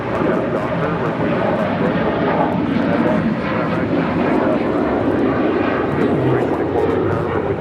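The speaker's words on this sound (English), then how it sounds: "That is Delta Airlines 615 taking off to Cancun. 737-900ER." A Delta Air Lines Boeing 737-900ER takes off from Los Angeles International Airport, bound for Cancun, with a steady, broad jet roar heard from a distance that holds level throughout, with no talk.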